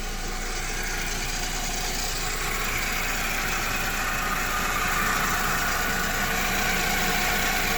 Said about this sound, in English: here's the car on idle